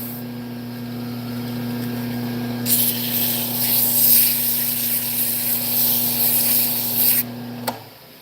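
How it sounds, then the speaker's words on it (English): Sandpaper rubbing the hollow inside of a wooden yo-yo turned from firewood on a lathe, a steady broadband hiss over the lathe's constant low hum, swelling for several seconds before stopping with a brief knock. "No good way to sand the inside. Try to get it smooth."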